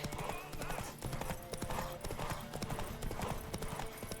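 Rhythmic clip-clop of horse hooves at a steady trot in The Witcher 3, loud and close, with a brief whinny and game music underneath.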